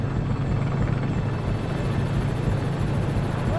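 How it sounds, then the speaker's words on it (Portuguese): A helicopter passes overhead above the Amazon rainforest, a continuous low rotor thudding and engine rumble that stays fairly loud and steady throughout. "a gente já ouviu o primeiro barulho de helicóptero"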